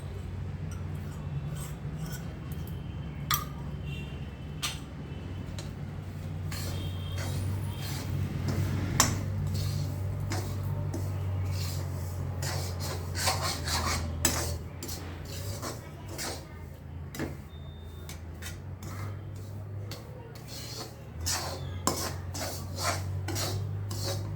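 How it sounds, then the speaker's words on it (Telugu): Semolina (rava) dry-roasting in a pan on low heat and stirred continuously, giving steady scraping and rasping strokes with light metallic clicks over a constant low hum, close and moderately loud throughout, with no speech. "సిమ్లో పెట్టుకుని కలుపుకుంటూ ఉండాలి"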